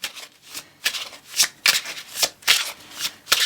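Tarot cards being shuffled by hand in a series of short riffling bursts, about seven quick papery flutters spaced roughly half a second apart, close and crisp with no talking.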